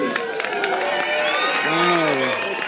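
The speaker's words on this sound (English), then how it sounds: "The crowd is getting excited." An excited outdoor crowd waiting for a solar eclipse fills the air with overlapping shouts, whoops and cheering voices, a lively continuous din.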